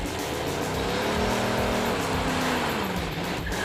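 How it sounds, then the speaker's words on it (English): A Super Camaro with a mild 350 Chevy V8 and a Turbo 400 transmission does a burnout at a drag strip, giving a loud, sustained engine roar with rising and falling tones that drowns out everything else. "First time down the drag strip in the Super Camaro"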